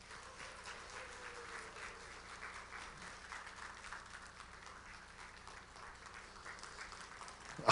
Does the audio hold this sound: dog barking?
no